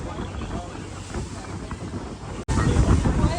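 Sea waves slapping against a boat crossing to Elephanta Caves near Mumbai, a rough continuous wash of water and wind buffeting, growing louder after a brief cut midway.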